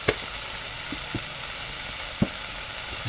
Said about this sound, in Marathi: ते परतून घेऊ जेणेकरून मीठ सगळ्याला लागेल